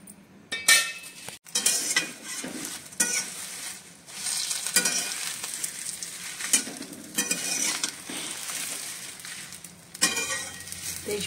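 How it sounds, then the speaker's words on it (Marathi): Bay leaves roast in oil in a pan for a homemade Maharashtrian masala chutney, giving a steady close sizzle broken by scraping stirs and metallic clinks of a spatula against the pan. "तेजपत्ता भाजून घेणार आहे मी."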